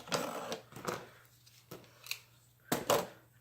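Scissors cutting through tough material for a nautical Christmas cloche, four or five sharp separate snips with pauses between, close and fairly quiet.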